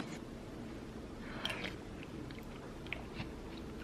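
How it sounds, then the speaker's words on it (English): Someone takes a spoonful of homemade lentil soup sprinkled with herbs, giving quiet close-up chewing and a few soft crunchy bites against a faint background hiss, with no talking. "So I'm going to give the soup a little bit of a taste test."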